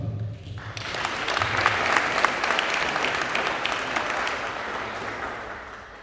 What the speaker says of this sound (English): I believe we can appreciate you with a very hearty clap